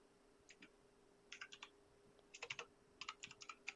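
A computer keyboard is typed on in short bursts of rapid, light clicks, faint and somewhat distant against a quiet background hum, with no voices.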